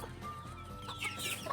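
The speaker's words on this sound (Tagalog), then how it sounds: "Ito na, sumusunod na sa akin ang mga manok." Hungry chickens cluck softly nearby while being fed, a few short, scattered calls over quiet outdoor background.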